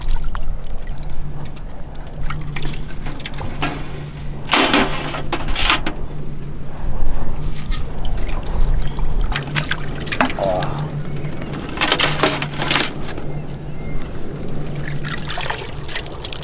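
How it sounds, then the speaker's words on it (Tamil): Water splashes and trickles in intermittent bursts as lobster meat is washed by hand for a spicy butter garlic gravy, with a steady low hum beneath and a voice speaking between the splashes. "நல்லா நைஸாக கழுவணும்."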